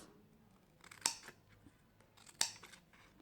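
Scissors snip through paper while a lidded cube gift box is made, two crisp close cuts about a second apart over a quiet background.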